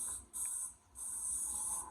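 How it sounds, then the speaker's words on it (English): Two short bursts of cooking spray hiss close by onto a baking pan, a brief spritz followed by a longer continuous spray. "Make sure you spray it really good so they don't stick to the pan."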